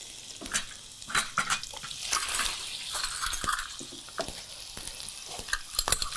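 Water is ladled into a hot pan while cooking samosa triangoli, setting off loud crackling sizzle and bubbling with occasional clinks of utensils, continuous and close.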